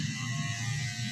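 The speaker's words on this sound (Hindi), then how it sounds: "16 नंबर साइडों में मशीन लगानी है सिर्फ।" An electric hair clipper with a number 16 guard runs across the sides of a man's head in a Peshawar barber shop, giving a steady close buzz that holds unbroken throughout.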